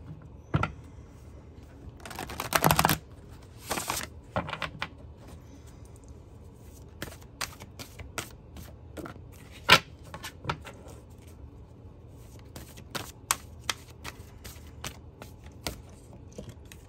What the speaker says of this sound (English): I'm gonna shuffle these up a little bit.